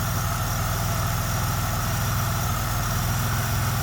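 A 2000 Pontiac Firebird engine idles steadily at close range, a continuous low rumble with an even pulsing beat and no pauses or sputter, running alone without any talk.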